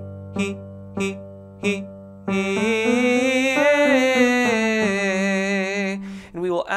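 A baritone voice runs a singing warm-up: three short detached staccato syllables on an H onset, then a sustained melismatic scale that rises and falls, sung alone and close with no accompaniment.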